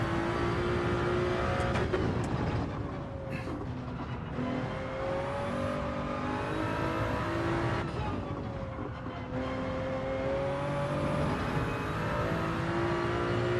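A Toyota Supra races in Gran Turismo 7, its engine droning steadily with repeated revs, upshifts and pitch changes for over ten seconds.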